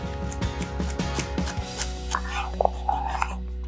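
Knife chopping three celery stalks on a cutting board while a soup pot heats on the stove, a quick run of crisp, evenly paced chops up close, then a few sparser taps and clicks over a low kitchen hum.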